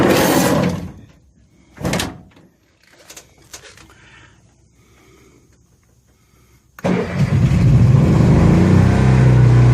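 A door on the fully enclosed housing of a Honda RV generator bangs shut, followed by the generator running loudly and steadily close by, with quieter clatter and small knocks beforehand.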